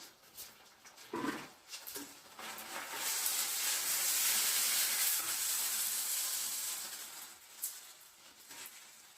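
Stuffed brinjals dropped into a hot pan with tomato, setting off a loud, steady sizzle that swells through the middle and then eases, with a few clatters at the start and near the end.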